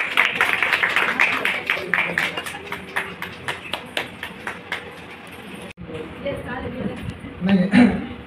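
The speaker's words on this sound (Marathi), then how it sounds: "धनश्री मॅडमसाठी जोरात टाळावा" At a Lokmat Sakhi Manch award ceremony for social media influencers, people clap for an honoree with brisk, sharp claps for about six seconds. The clapping stops abruptly and a voice begins speaking.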